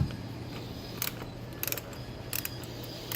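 Hose clamps on a 2018 Dodge Charger Scat Pack cold air intake are tightened, producing a few faint quick ratcheting clicks in short clusters over a low steady background hum.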